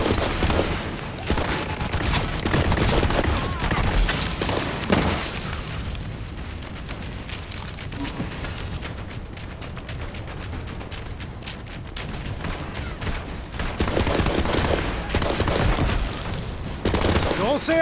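Dense, continuous gunfire and explosions fill a Borderlands 3 fight, rapid automatic bursts and booms layered together at steady high loudness, easing briefly midway before intensifying again, with voices speaking over the barrage.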